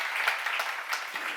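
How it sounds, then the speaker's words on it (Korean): Audience applause at a church seminar, a dense steady clapping from a crowd that fills the short moment without a break, with no one speaking over it. "박수."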